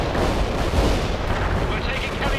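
An artillery barrage in the World in Conflict war game sounds as a dense, continuous roar of booming blasts with heavy low rumble, and a voice may be faintly mixed in.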